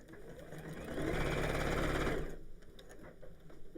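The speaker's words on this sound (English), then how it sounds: "we're going to open up the corners and sew straight across to box them" Sewing machine stitching straight across the opened corners of fabric to box them: a steady, rapid mechanical whir that runs for about a second and a half, then stops, leaving faint handling noise, with no talking.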